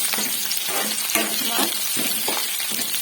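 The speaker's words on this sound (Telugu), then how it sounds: "ఇప్పుడు నేను కొంచెం అల్లం వేసుకుంటున్నా కరివేపాకు కూడా వేసుకున్నా సో ఇలా అయితే మంచిగా ఫ్రై కావాలి" Ginger and curry leaves fry in hot oil in a pan, a steady dense sizzle with faint stirring scrapes throughout, close and continuous with no talking.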